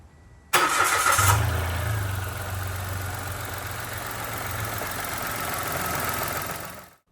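A Mitsubishi Mirage engine cranks briefly and catches, then settles into a steady, close idle that carries on for several seconds before cutting off abruptly.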